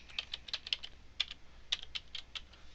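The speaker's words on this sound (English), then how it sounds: "I'm going to type in my password" Quick, light keystrokes on a computer keyboard as a password is typed at a desk, about a dozen close clicks in uneven bursts with short pauses, no talking.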